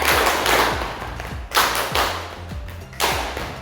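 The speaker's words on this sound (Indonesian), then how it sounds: "Ya, tepuk tangan." Steady applause from a crowd, dense overlapping claps with a few louder thumps, continuous and fairly loud.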